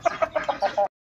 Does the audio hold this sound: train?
no